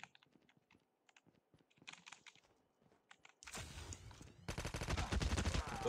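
Light keyboard tapping gives way to loud, sustained bursts of automatic XPR-50 rifle fire in the video game Call of Duty Mobile, the rapid shots growing denser and louder toward the end.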